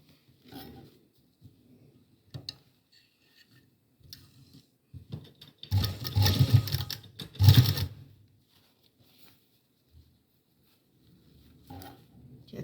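A sewing machine stitching a small Laddu Gopal dress, running in two short close bursts of rapid mechanical whirring separated by quiet pauses and faint handling sounds.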